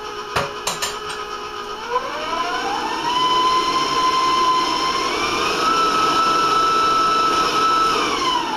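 An electric mixer beats vanilla into cookie dough for Italian meatball cookies, starting after a few knocks, then whirring steadily with a rising whine that holds and shifts pitch slightly, close and loud with no voices.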